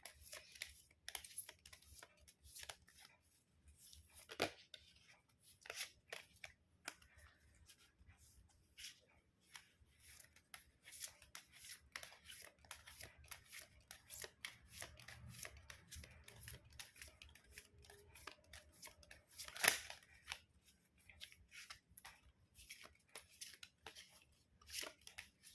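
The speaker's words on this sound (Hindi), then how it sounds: "कार्ड्स हो गए हैं शफल" Tarot cards are shuffled by hand in a long stretch of faint, close riffling and soft flicking, with irregular light taps and one sharper slap near the end.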